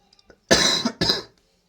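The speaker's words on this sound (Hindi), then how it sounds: "थोड़ी हेल्थ ख़राब लग रही है, खांसी वांसी हो रही है" Two sharp, close coughs in quick succession, the first longer, followed by silence.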